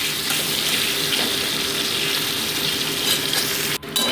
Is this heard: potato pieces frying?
yes